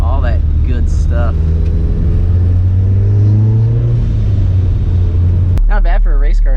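A supercharged Mazda Miata race car driving on the street: a loud, steady engine drone from inside the cabin that rises and falls with throttle, under a voice talking throughout.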